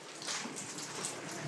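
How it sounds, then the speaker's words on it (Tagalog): Rain falling outdoors as a faint, steady hiss of drops with a few slightly sharper patters scattered through, quiet and distant, with no talking. "Hey, umuulan."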